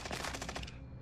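Rapid bursts of automatic gunfire in the Warzone battle royale game on the Caldera map, a fast rhythmic volley of shots that fades after under a second, loud and without talk.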